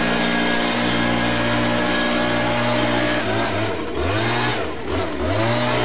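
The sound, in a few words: leaf blower blowing grass trimmings back into lawn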